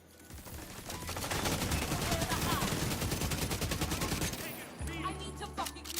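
Dense, rapid enemy gunfire in The Division 2, sustained automatic bursts layered into a continuous loud barrage for several seconds before easing into scattered shots near the end.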